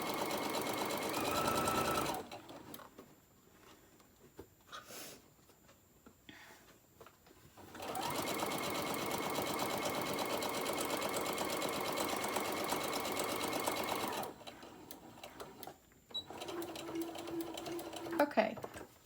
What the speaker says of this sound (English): I'm gonna go ahead and use the down feature on my machine